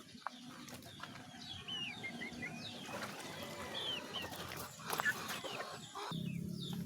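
A hen clucks softly and intermittently in an outdoor yard while being bathed, with other birds faintly in the background, the sound fairly quiet and distant.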